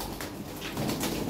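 Big, newly adult Lahore Siraji pigeons coo in a low, continuous burbling chorus close by.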